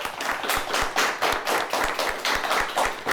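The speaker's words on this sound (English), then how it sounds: "Let's give them a nice round of applause." A small quiz-show audience claps in quick, uneven bursts, close by and fairly loud, with no voices.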